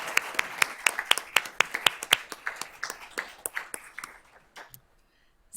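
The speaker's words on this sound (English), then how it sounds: "Let's give her a round of applause." Applause at a board of trustees meeting: distinct, sharp handclaps from a modest group, brisk at first, then thinning to a few scattered claps before fading out.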